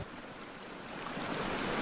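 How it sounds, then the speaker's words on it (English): A small creek flows through a canyon as a steady, broadband rush of running water that builds slightly louder toward the end, with no voices. "We're following this stream up the canyon."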